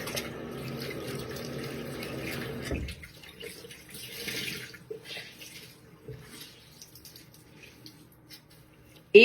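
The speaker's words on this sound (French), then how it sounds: "Alors, vous rincez votre débarbouillette." Tap water runs into a bathroom sink as a washcloth is rinsed, a steady splashing flow for about three seconds, then quieter dripping and small wet handling sounds.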